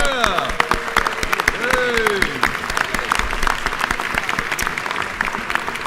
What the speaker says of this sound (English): So if we can all give our peanut industry and peanut growers a round of applause.